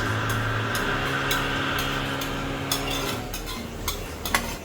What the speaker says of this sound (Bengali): এখন আমি দিয়ে দিব মুগ ডাল এক কাপ মুগ ডাল